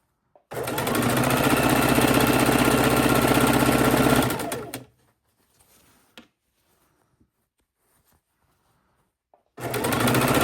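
A sewing machine stitches quilt fabric strips in one loud, steady run of about four seconds, then stops, leaving near silence with faint handling before the motor starts again at the end.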